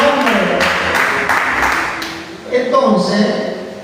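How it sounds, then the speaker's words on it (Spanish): A church congregation at a Bible study service breaks into applause, with clapping mixed under a voice talking, then quieting as speech continues. "Démosle un aplauso al Señor."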